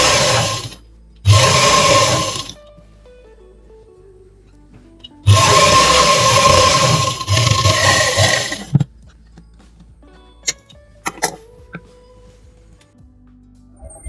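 A sewing machine stitches a folded half-inch hem on an eyelet curtain, whirring loudly in two sustained bursts, followed by scattered clicks and light handling noises.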